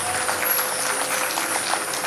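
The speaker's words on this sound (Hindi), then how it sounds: "उनके लिए तालियां मार दो" Applause from an audience at a gathering in Karolgarh, a dense, steady patter of many hands clapping at fairly close range, filling the short stretch without letting up and with no voices on top.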